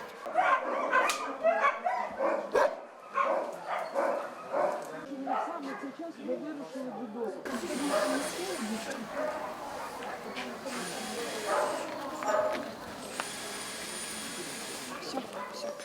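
Many dogs bark, yip and whimper at once, an agitated, stressed chorus echoing in an enclosed animal shelter in Kharkiv after a bombing strike, with voices talking now and then.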